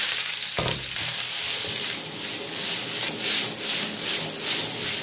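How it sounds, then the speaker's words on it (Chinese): Shredded onion stir-fries in hot oil in a wok, a loud, constant close sizzle with rhythmic rubbing and scraping as the pieces are tossed, plus a short knock near the start. "油热后下入洋葱丝，炒出香味"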